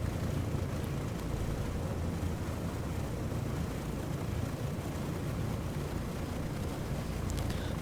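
Lockheed Constellation piston engines idling at around 1,000 RPM in the A2A flight simulator, a steady low broadband drone with no break, moderately quiet and heard on its own.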